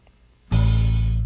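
Electric bass plucked with alternating fingers, one bright attack after half a second of quiet, sustaining loudly with a crisp top end and a steady low hum.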